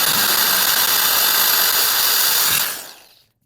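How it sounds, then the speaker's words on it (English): A power drill bores a 3mm pilot hole with a loud, steady whine that holds for about two and a half seconds, then spins down and fades to silence. "We're then going to start off by drilling a pilot hole, a 3mm pilot hole"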